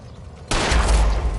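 In L.A. Noire, a sudden burst of gunfire erupts after a quiet moment, loud and close, with a rumbling sustained blast that lingers to the end.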